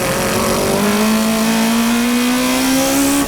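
Race cars, including a Spirits Hachiroku, accelerating on a track, a loud sustained engine roar with a steadily rising pitch as the revs climb, close and continuous with no talking.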